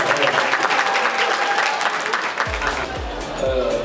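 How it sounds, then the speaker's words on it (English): Crowd applause at the IFFSA 2022 film festival red carpet, a busy burst of many hands clapping that thins out near the end, with a voice speaking over it and low thumps toward the close. "Make some noise for the applause."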